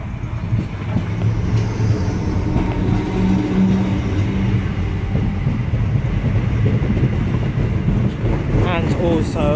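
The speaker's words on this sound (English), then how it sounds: "456015 departing Guildford Station for Ascot" A Class 456 electric train, unit 456015, pulls out of Guildford Station bound for Ascot with a low rumbling drone of motors and wheels, while someone talks over it throughout.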